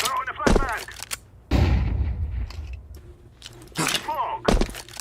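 A flashbang grenade is thrown in Counter-Strike, giving several sharp, booming bursts separated by short gaps, with muffled voices in between.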